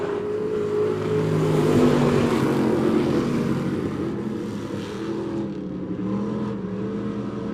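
Race cars at Monett Motor Speedway, a dirt oval track, drone through turns three and four in a feature race, a loud steady blend of engine roar that swells and eases slightly as the pack passes.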